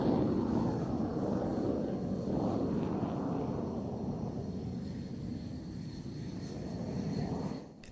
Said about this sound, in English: The Jf-17 continues the steady climb before reversing to reposition for a pass from the right hand side.